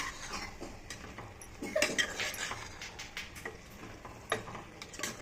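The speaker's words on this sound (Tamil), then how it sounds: "இப்போ நம்ம எடுத்து வச்சுருக்க புதினா தலை சேர்த்துக்கலாம் நல்லா கிண்டி விட்டுக்கலாம்" Jackfruit biryani being stirred in a pot after mint leaves go in, with soft scraping and clinking strokes at an irregular pace, a couple of louder knocks, and a faint sizzle underneath, no voices.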